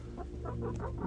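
A hen clucks inside a hen house in a quick series of short, close, repeated clucks over a steady low background hum.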